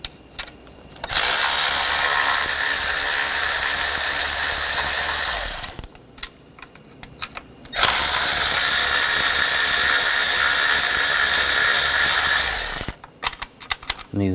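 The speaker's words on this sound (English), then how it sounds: "Now we're going to take the bolts off for the valve cover using an 8mm socket." Power tool or ratchet whirring on 8mm valve cover bolts of a 2013-2019 Ford Escape 2.0L four-cylinder, two sustained loud bursts of about five seconds each separated by a short pause.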